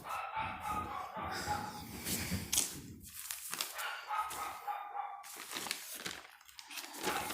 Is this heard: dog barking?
yes